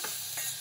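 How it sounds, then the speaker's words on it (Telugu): Chicken biryani masala with onion, mint and whole spices being stirred in a pot, giving a brief, close sizzle with scraping strokes. "కలుపుతూనే ఉండి"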